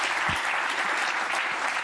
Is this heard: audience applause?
yes